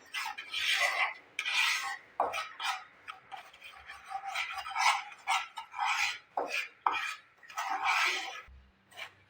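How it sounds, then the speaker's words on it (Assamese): Atta flour is stirred while roasting in a pan, giving repeated rhythmic rasping scrapes of a spoon across the pan bottom. The strokes are close and fairly loud, with no talking. "এইদৰে মই আটাখিনি লৰাই থাকিম, নহ'লে তলত লাগি ধৰিব।"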